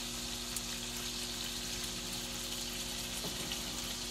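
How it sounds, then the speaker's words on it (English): Excess oil pours off from a cast iron pan after cooking pork chops, a steady liquid hiss and sizzle that holds at an even level throughout with no talk. "I poured off the excess oil."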